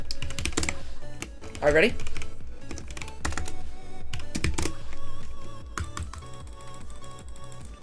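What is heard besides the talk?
typing on a computer keyboard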